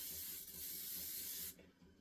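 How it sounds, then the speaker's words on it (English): Spray adhesive hisses steadily from an aerosol can onto the back of fabric for about one and a half seconds, close and fairly loud, then cuts off abruptly. "I'm going to give this a shot of spray to the back."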